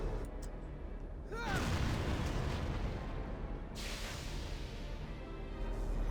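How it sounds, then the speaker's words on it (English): A tank's main cannon fires in the video game Valkyria Chronicles, one heavy booming blast followed by a rolling rumble, with battle noise continuing in the background. "That main cannon is lethal."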